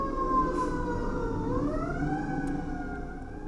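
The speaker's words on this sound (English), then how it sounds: "Another ambulance." An ambulance siren wails steadily in The Last of Us Part II, its pitch dipping and then rising again in a slow sweep over a low background rumble, with no talking.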